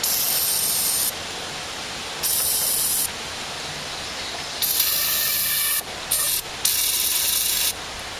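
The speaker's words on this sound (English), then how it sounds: "let me shoot some brake cleaner and parts cleaner in there" Brake cleaner and parts cleaner spray from aerosol cans into a riding mower part in several loud, close hissing bursts of a second or so each, with brief pauses between them and no talking.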